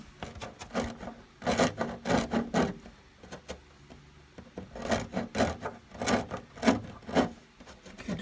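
Plastic edge of a Tamiya 1/10 RC GR Yaris body being deburred, giving repeated rasping scrape strokes in a steady rhythm, close and fairly loud, with short pauses between groups of strokes.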